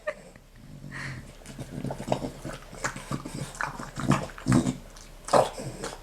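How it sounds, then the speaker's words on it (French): A dog eats an advent calendar treat close by, with wet smacking, chewing and gulping sounds in irregular bursts, plus a few snuffles and low grunts. "il avale, c'est un glouton ce chien"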